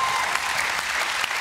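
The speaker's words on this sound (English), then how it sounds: "to have yes, an applause from a live crowd" A live studio audience at a late-night TV show claps in steady, dense applause, a continuous wash of many hands close and even, with no talking over it.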